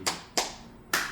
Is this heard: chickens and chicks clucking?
no